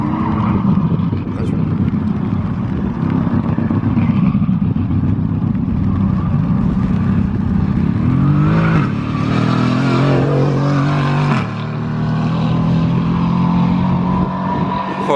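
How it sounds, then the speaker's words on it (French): Two V12 hypercars rev and roar together on an airport runway, a loud sustained engine howl with rising and falling pitch as they accelerate, close and continuous throughout. "les deux V12 ils chantent tellement bien ensemble"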